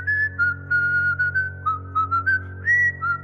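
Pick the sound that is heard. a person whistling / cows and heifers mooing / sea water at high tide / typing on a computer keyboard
a person whistling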